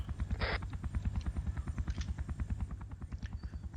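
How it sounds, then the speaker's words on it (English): An approaching helicopter in Arma 3, with loud, rapid rotor thumping in a steady pulsing rhythm, close and dominant, with a brief hiss-like burst near the start. "Got a chopper inbound your position"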